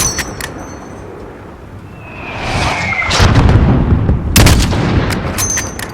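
Mortar blasts and gunfire from the Call of Duty: Modern Warfare video game, with loud booming impacts and sharp cracks over a rumbling battlefield backdrop.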